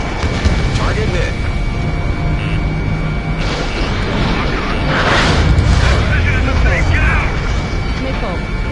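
A missile strikes its target in the Ace Combat 7 video game, a loud rumbling explosion under continuous jet roar, with radio voices talking over it.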